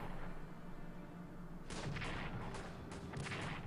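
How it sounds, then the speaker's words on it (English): Defensive artillery fire in the World War I strategy game Strategic Command, heard as several crisp, distant booms in quick bursts over a steady background hum. "Defensive artillery."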